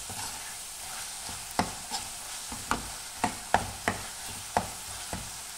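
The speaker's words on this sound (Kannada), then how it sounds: "1 ನಿಮಿಷ ಹಾಗೆ ಫ್ರೈ ಮಾಡ್ಕೊಳ್ಳಿ" Masala for a green gram curry fries in a pan with a steady, soft sizzle. A spoon scrapes and taps against the pan in irregular, sharp knocks, quiet and close, with no talk.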